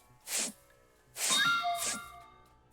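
Delivery sound effect in the video game Ship Graveyard Simulator 2: a few quick ringing, clanging dings in a short cluster, moderately loud over a quiet background.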